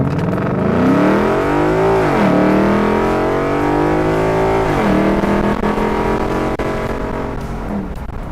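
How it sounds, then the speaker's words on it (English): A 1957 Ford Thunderbird swapped with a Coyote 5.0 V8 accelerates hard on an open road. The engine roars loudly and up close, rising in pitch through the gears with two clear shifts, and no one speaks. "put your foot to the floor. Now the old bird has some thunder."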